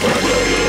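A dog crashing through a glass window in the film Clue (1985), a loud, dense burst of shattering and clattering that fills the whole brief moment.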